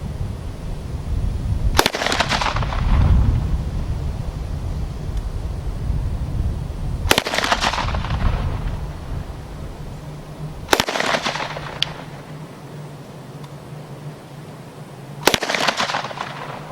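An UZI submachine gun with an open-bolt system fires on select fire, producing four loud, sharp single cracks spaced several seconds apart, each echoing briefly outdoors over low background rumble.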